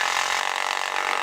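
A helicopter door gun in a video game spins up, a dense mechanical whirring buzz that holds steady and fairly loud for about a second, with no speech.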